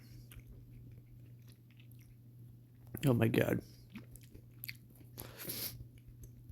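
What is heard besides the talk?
person chewing gum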